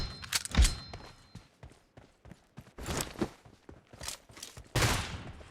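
Pistol gunfire in a 1v1 video game match cracks out as a rapid, irregular string of sharp shots, some louder and closer, scattered across the clip.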